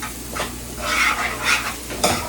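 Pre-cooked penne pasta mixed in a bowl, giving wet, squelching stirs in three or four close strokes with faint scrapes, alone with no voices.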